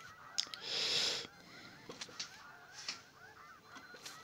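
A man imitates a seagull's cry with his voice, giving one long, hoarse, honking squawk, then several shorter, scratchy bursts spaced irregularly over a quiet background.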